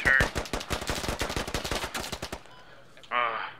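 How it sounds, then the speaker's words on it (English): Rapid automatic gunfire fills a Squad video game firefight: a fast, loud burst of closely spaced shots lasts about two seconds, then there is a short pause before a brief noisy burst of another sound. "I shot him twice in the chest"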